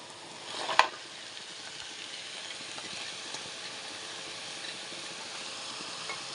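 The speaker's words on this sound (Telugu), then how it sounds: "ఉల్లిపాయలు బాగా మగ్గిపోవాలి ఉల్లిపాయలు కొంచెం ఇలా వేగిన తర్వాత ఇప్పుడు మనం కట్ చేసి క్లీన్ చేసి పెట్టుకున్న అనపకాయ ముక్కలు అయితే వేసేయాలి" Onions frying in a pan for a bottle gourd curry give a steady, even sizzle throughout, with one brief clatter near the start and no voices.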